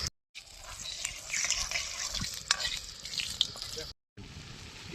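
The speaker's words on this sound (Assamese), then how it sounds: "এই দি দিলোঁ গোটা জিৰা" Whole cumin seeds crackle and sizzle in hot oil in a wok, a steady close frying hiss with small pops that cuts out briefly at the start and near the end.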